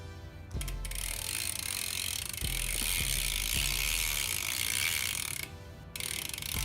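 A BMX bike sprocket bolt is being tightened; close, steady mechanical clicking and grinding runs almost continuously over a loud background hiss, with a few sharper knocks and a brief dip near the end.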